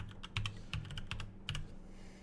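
Quick bursts of typing on a computer keyboard, about a dozen crisp clicky keystrokes in an uneven rhythm, close and clear, with no talk over them.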